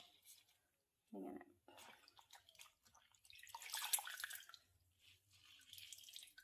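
Boiled chaya mansa leaves being drained, with water dripping and trickling in short bursts at close range, alone without talk.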